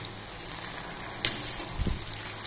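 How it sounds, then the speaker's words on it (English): Potatoes for sabudana khichdi fry in a pan with a soft, steady sizzle, broken once by a brief sharp tick and a small low bump. "And there the potatoes are also cooking."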